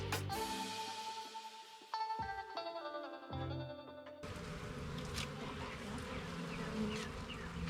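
Honeybees buzz steadily and loudly at an opened hive during a season-opening inspection, a dense droning swarm close by with brief tonal shifts, no talking.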